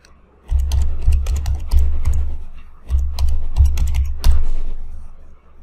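A password is typed on a computer keyboard in two quick bursts of crisp, close key clicks with a short pause between them and a thud at the end, loud and with no talk.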